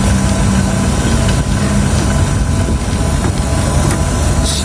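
A vacuum pump running during repair of a split air conditioner with a refrigerant leak in the pipe line, a loud, steady, droning hum with constant vibration, close and uninterrupted.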